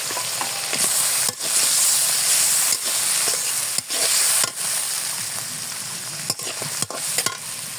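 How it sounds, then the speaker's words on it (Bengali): Onions frying in hot oil give a loud, steady sizzle, broken by a few brief dips and clinks as the pan is stirred, close and with no voices. "এখন আমি পেঁয়াজগুলো দিয়ে দেবো"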